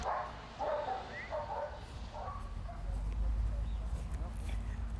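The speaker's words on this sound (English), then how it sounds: "They now train on site their own guard dogs." Guard dogs trained on site bark and yip in short scattered bursts, moderately near, over a steady low rumble and background noise with voices mixed in.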